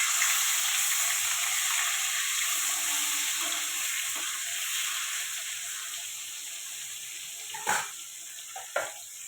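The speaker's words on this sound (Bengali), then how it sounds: "মাছটা উল্টে দেবো।" Fish sizzles steadily in hot oil in a pan after being turned over for a potato fish curry, a continuous close hiss with a couple of sharper spits near the end.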